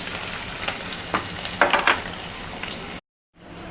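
Chopped onion and curry leaves frying in hot oil, a steady dense sizzle with a few crackling pops and stirring, close and continuous, ending abruptly before a softer sizzle resumes.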